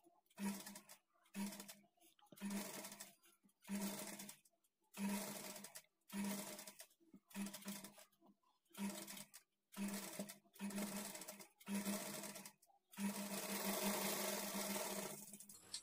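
A sewing machine attaches sleeves to a lining blouse, running in about ten close bursts of whirring separated by brief stops, ending in one longer continuous run.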